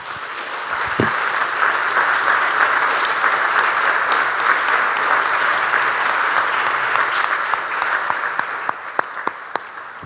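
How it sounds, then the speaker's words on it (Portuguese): A church congregation applauds together during a Portuguese-language service, steady dense clapping filling the room for several seconds, then thinning into scattered individual claps near the end. "Você pode dar uma salva de palmas a Jesus?"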